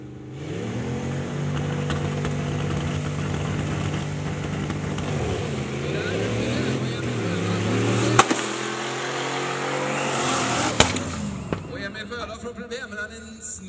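Drag racing tractors with diesel engines line up at the start tree at Målilla Traktor Power Weekend 2019, their engines droning and revving loudly with rising and falling pitch and a few sharp bangs, under a commentator talking.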